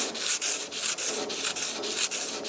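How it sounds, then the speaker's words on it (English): Sanding an epoxy-primed truck cab with 150-grit paper: a steady, close, gritty rasp of back-and-forth strokes, with a brief dip at each change of direction and no talking. "now I'm going to use a grit 150 to sand it"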